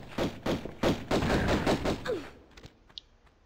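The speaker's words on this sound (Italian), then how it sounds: "io provo a ammazzarlo con le pistole" Rapid pistol fire in Tomb Raider I Remastered, a burst of about eight close, sharp shots in quick rhythm that stops abruptly and leaves a few faint game sounds.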